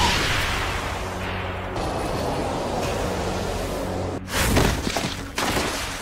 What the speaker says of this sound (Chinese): 二人的对轰引起巨大爆炸